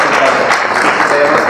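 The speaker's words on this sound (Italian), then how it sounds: "Facciamo un applauso, direi, all'architetta Italia Pozzini" Applause from an audience at a Milan architecture talk, a dense steady wash of many hands clapping at close range, loud and continuous with no voices on top.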